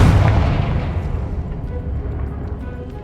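Confringo fire-blast spell explosion in the game Hogwarts Legacy, a single loud, heavy boom at the start that rolls into a long decaying rumble.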